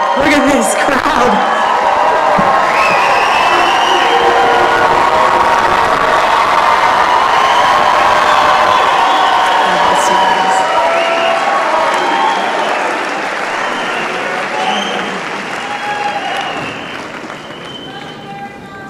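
A large crowd at a Turning Point USA event in Phoenix cheers and applauds loudly and continuously, with whoops and shouts over dense clapping that slowly tapers near the end; voices ring out amid the noise.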